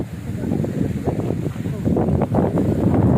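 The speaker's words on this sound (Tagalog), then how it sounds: "Sarap ng hangin." Steady, gusty wind buffeting the microphone with a low rumble on a ride to a windmill site, close and fairly loud, with some indistinct voices beneath it.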